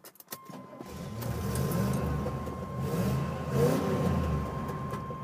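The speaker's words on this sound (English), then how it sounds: "stick it in drive, plant the gas pedal, and let me leave 11s on the road" A Chevrolet Corvette C3 Stingray engine revs and accelerates, building to a loud roar and holding steady with a low rumbling growl.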